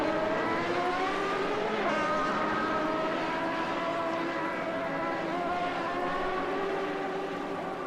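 Several 1989-era Formula race cars in Assetto Corsa circle the Buenos Aires circuit, their high-revving engines whining and overlapping steadily throughout, with pitch rising and falling as cars pass nearby.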